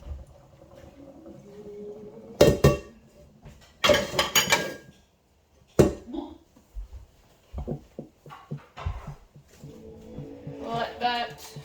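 Pasta is drained and butter goes into a pan in a home kitchen: clattering pot and utensil knocks, a burst of rushing water, and scattered clinks, with someone talking over much of it.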